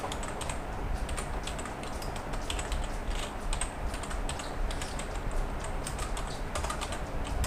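Typing on a computer keyboard, a steady run of quick key clicks close by, with no voices over it.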